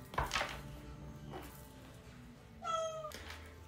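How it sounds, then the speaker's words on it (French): A domestic cat meows twice, a longer call near the start and a short clear meow later, with quiet knocks and room noise between them. "C'est mon chat."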